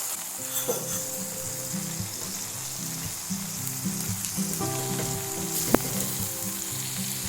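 Chicken strips sizzle and fry steadily in a hot pan, a continuous close crackle with occasional stirring clinks and a sharp tap near the end, no voices.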